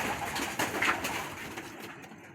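Pigeons in a cage cooing softly amid a hissy, busy background, with low murmuring calls and a few brief flutters fading toward the end.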